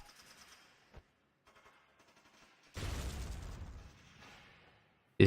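A grenade blast in the war strategy game Valkyria Chronicles: one loud, sudden burst after quieter interface sounds, with a rumbling roar that lasts about a second before fading.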